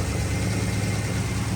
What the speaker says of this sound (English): put a baseline tune in this just to get it idling